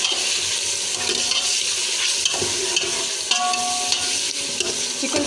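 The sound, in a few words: chicken frying in ghee with garlic ginger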